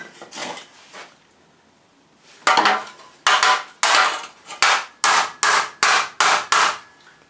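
A distorted motorcycle chain guard from a Suzuki Bandit is hammered back into shape, with a few scattered knocks followed by a run of about eight loud, evenly paced metallic blows close by.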